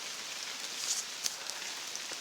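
Rain falls steadily during a long run outdoors, a soft even patter with a few sharper drops hitting a surface close by.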